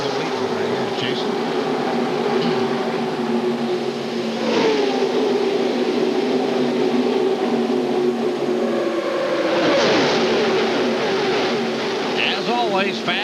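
NASCAR Busch Series stock cars racing in a pack at Talladega, Alabama, a loud continuous engine roar with swelling passes, while an announcer talks over the noise.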